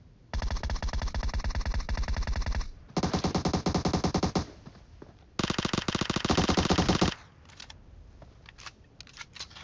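Automatic gunfire from the mobile battle-royale game PUBG Mobile, three long rapid bursts of close shots separated by short pauses, followed by a few scattered single shots.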